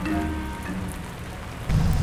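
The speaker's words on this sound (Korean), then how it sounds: "갑자기 이렇게 위험한 비가 내리냐?" Sudden heavy rain pours down in a dense, steady hiss of drops striking surfaces, swelling into a louder, deeper rush near the end.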